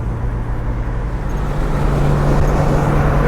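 A car with a rebuilt TH180 automatic transmission on a hilly test drive, its engine a steady, fairly loud hum with road noise and a low drone that shifts slightly partway through.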